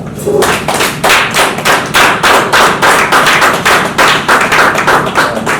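An audience applauding a speaker, steady loud clapping in quick rhythmic bursts about twice per second, close and sustained without talk.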